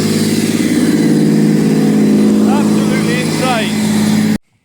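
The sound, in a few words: supercharged Honda NSX engine blowing through new exhaust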